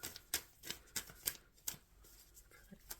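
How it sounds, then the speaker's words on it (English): Tarot cards shuffled by hand in a reading for Virgo, giving repeated crisp riffling bursts in an uneven rhythm, close and fairly quiet, with no talk. "Spirit, I'm shuffling."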